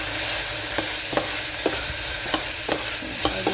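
Long beans stir-fried in a hot pan, a loud continuous sizzle broken by regular scraping and clattering stirring strokes about every second, close up and with no voices.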